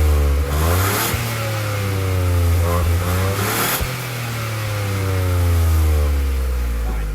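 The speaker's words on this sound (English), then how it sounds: "Let's take a quick listen to what this exhaust sounds like." A Renault Clio's engine revs repeatedly through its exhaust, rising and falling in pitch several times, loud and close, with no talking.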